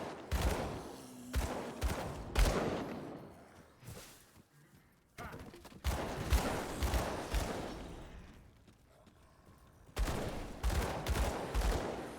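Gunfire from shooting enemies in the Grim Dawn video game comes in dense rapid volleys, loud and near, separated by quieter gaps, with a voice talking over the action.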